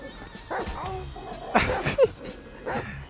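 Chop, the dog in Grand Theft Auto V, barks and yips a few times in game audio. A person talks over the short, close barks.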